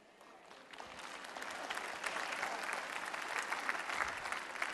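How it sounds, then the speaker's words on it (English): A modest audience at a family-life talk gives scattered, somewhat tentative applause, faint and distant, building gently into a steady patter of claps with no clear voices. "There's some claps and some half claps there."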